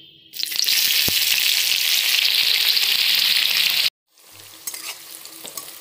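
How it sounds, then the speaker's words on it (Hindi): Chopped onion and cumin hit hot oil in a pan for a Bihari-style matar nimona, bursting into a loud, steady sizzle that holds for several seconds, then cuts out and returns softer with light stirring, no talk. "इसके बाद हम इसमें जीरा डालेंगे, फिर इसमें हम कटा हुआ प्याज डालेंगे।"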